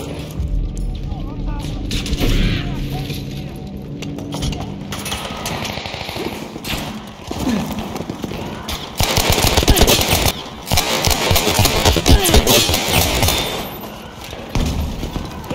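Battlefield V gunfire crackles almost continuously in sharp bursts and single cracks, with a heavier, denser volley near the middle, all under intermittent talking.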